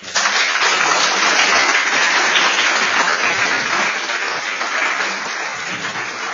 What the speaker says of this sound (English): would you just give them a round of applause?